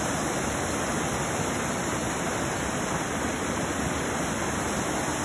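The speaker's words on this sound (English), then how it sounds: "This is a waterfall in Beacon, Connecticut, or in Beacon Falls, Connecticut." Spruce Brook Falls in Beacon Falls, Connecticut, a run of several cascades, gives a steady, dense broadband rush of falling water, loud and unbroken.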